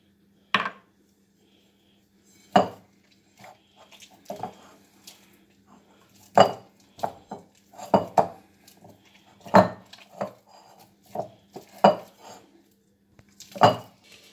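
Apple tart pie dough softened with a little milk is worked in a mixing bowl, giving sporadic clear knocks and clinks against the bowl with soft squishing between them, close and otherwise quiet.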